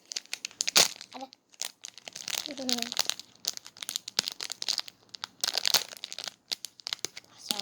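Sticker packaging is torn open and crinkled by hand in a quiet bedroom, with several sharp rips and crackly plastic rustles close by, mixed with a woman's brief speech.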